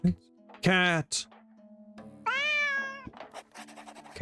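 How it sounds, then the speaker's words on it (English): A cat in the video game Drova meows in a few drawn-out, rising and falling calls, close and fairly loud, with other short game sounds around them. "Pet the cat."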